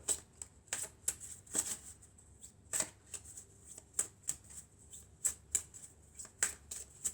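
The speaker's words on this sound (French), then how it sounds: "Alors on va prendre encore quelques cartes." Oracle cards being shuffled and drawn by hand, a close series of crisp riffling bursts and soft slaps in an irregular rhythm, quiet and without talk.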